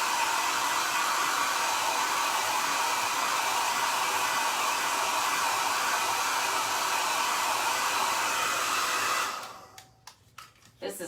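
A heat gun blows hot air onto a vintage floral transfer on a faux wood plank top, a steady, loud, close rushing whoosh lasting about nine seconds before it cuts off, leaving a few faint clicks and handling noises.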